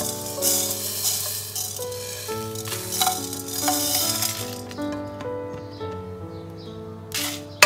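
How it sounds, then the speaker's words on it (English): Ingredients for Mangalorean methi leaves pathrade dry roast in a heated pan, with crackling, popping and sizzling and several clinks and scrapes of stirring against the pan, moderately loud and close, with no talking. "Now I am going to dry roast the ingredients."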